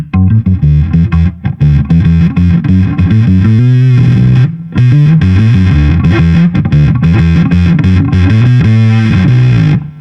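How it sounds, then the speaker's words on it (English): A bass guitar runs through a Red Witch Zeus suboctave fuzz pedal, blended half fuzz and half dry, producing a loud, gritty, distorted riff of repeated notes with thick low growl, close up and continuous with no voices. "And the fuzz sounds like this."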